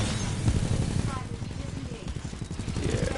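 Missiles fired in the video game Titanfall, a rapid rattling volley of launches and bursts under busy mid-level game noise.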